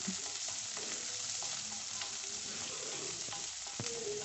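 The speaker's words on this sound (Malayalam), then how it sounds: "വെളിച്ചെണ്ണ ചൂടായി വരുമ്പോൾ അതിനകത്തേക്ക് ഉള്ളി അരിഞ്ഞത് ചേർത്ത് ഒന്ന് വഴറ്റിയെടുക്കാം" Chopped onions sauté in hot coconut oil with a dense, even sizzle, plus occasional light clicks of stirring, steady and moderately quiet with no voices.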